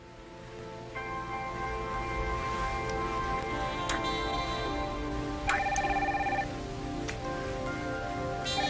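A telephone rings repeatedly in a film scene, its trilling bursts spaced a few seconds apart over a steady background wash.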